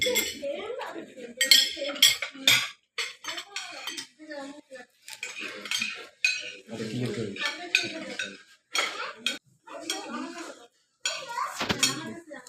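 Dishes and cutlery clinking at a family meal as an empty plate is set out, with frequent close metallic clinks and ceramic knocks, voices talking around the table, including a child.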